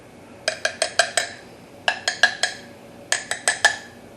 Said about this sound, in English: I'm going to take a spoon and I'm going to mix that up thoroughly